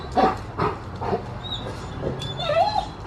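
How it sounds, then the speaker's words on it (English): A dog indoors gives a few short yips and whimpering whines, close and fairly soft, with quiet pauses between the brief calls. "No barking."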